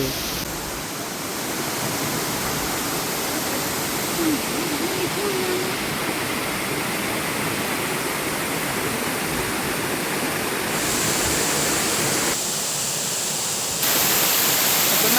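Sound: forest stream flowing

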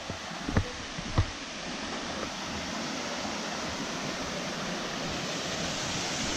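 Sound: waterfall

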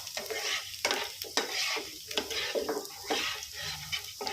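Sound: garlic frying in oil

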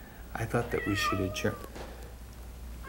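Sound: cat meowing

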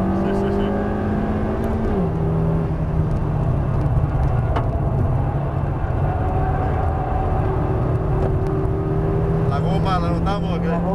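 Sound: new Honda Civic Type R car driven on a track

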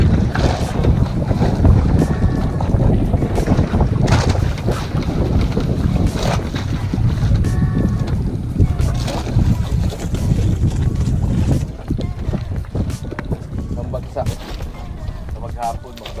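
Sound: strong wind at sea

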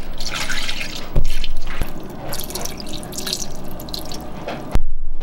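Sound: almond milk being poured

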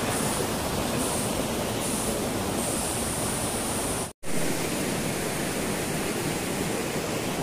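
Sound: river flowing in a Kashmir forest

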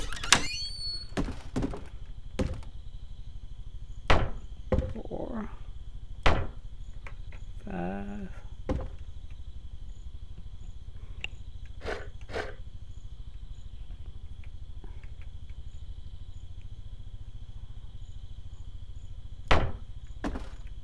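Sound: hammering thatch into place in the video game Medieval Engineers

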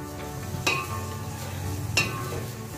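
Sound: stirring spinach into cooking dal vegetables in a pan

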